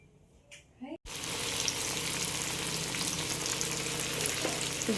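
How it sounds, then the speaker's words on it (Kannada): Tomato chutney fries in a pan with a loud, steady sizzle and crackle that starts abruptly after a moment of quiet at the beginning, continuing close up and unbroken. "ನೋಡ್ರಿ ಇಲ್ಲಿ ನಮ್ಮ ಪಾಪ ಟೊಮೆಟೊ ಚಟ್ನಿ ಮಾಡ್ಲಿಕ್ಕತ್ತಾರ"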